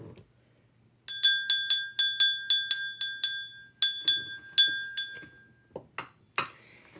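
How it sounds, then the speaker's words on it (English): A small bell is struck a dozen or so times in a quick, uneven rhythm, each clear ring fading briefly, followed by a few softer clinks. "Let's ring this bell."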